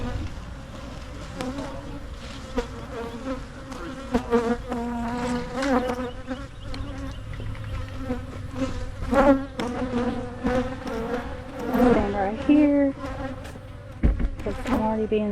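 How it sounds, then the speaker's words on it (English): Dense, steady buzzing of many honey bees swarming close around a beekeeper, rising and falling in intensity throughout with no talking. "These are crazy bees."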